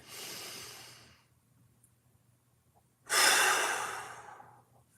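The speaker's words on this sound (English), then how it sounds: "One more big breath." Two deep breaths taken close up during a mobility workout, a long airy exhale followed by a pause, then a louder, sharper inhale-exhale that slowly fades.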